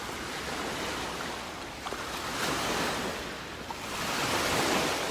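Ocean surf washing onto a white sandy beach, a steady broadband wash that swells and recedes in slow surges, close and fairly loud with a little wind, no voices.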